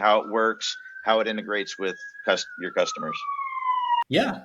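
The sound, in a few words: sirens in the background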